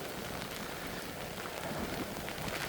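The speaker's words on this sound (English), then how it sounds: "Whoa! It rains pretty bad." Heavy rain pouring steadily in a coastal park reserve, a loud continuous dense hiss of drops on surfaces with no break and no talk.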